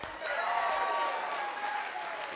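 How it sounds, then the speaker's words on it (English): A studio audience applauds at a late-night television show, a steady dense wash of clapping that fills the whole moment, with a faint tonal hum running under it. "Give yourselves a round of applause."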